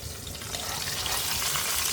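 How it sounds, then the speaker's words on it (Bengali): Hilsa fish fries in a pan with a dense, continuous crackling sizzle, close and fairly loud, holding steady for the whole short stretch. "তো এখানে ইলিশ মাছ ভাজি করতে দিয়েছি।"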